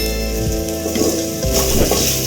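Plantain pieces frying in hot oil for a Tamil vazhaikai podi kari, a loud continuous sizzle with a couple of brief stirring scrapes, close up and without speech.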